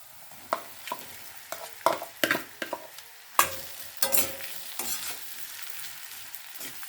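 Potatoes frying in a pan over low gas for masala dosa filling, stirred with sharp repeated scraping and clacking strokes over a soft steady sizzle, close and clear with no voices.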